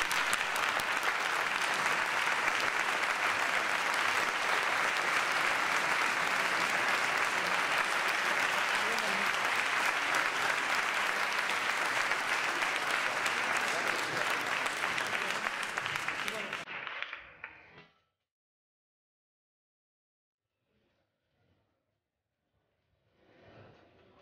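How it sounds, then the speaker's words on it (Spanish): Dense audience applause at a Sociedad Civil 2017 award ceremony rolls loud and steady for about sixteen seconds, then cuts off abruptly into near silence with faint stirrings afterward. "darte otro aplauso"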